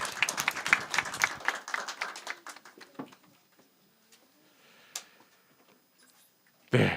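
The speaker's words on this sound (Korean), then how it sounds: "이 기도 제목 우리 축하의 박수 드리겠습니다" A church congregation claps together in celebration. The applause is a dense burst that fades over about three seconds into a quiet room, with a stray clap or knock afterward.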